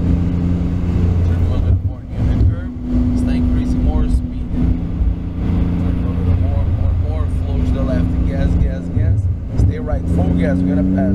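A supercar's engine roars loud and close at full throttle on a race track, its pitch climbing and dropping through shifts, with a voice talking over it nearly throughout.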